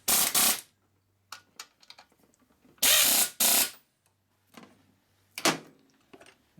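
Bolts being tightened on a 1965 Harley-Davidson Panhead 74ci engine during a lower-end rebuild, giving sharp, separate bursts of tool ratcheting and metallic clicks with quiet gaps between them, close and alone.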